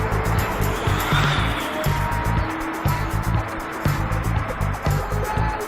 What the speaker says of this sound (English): I'm actually getting some nice little drifts happening in there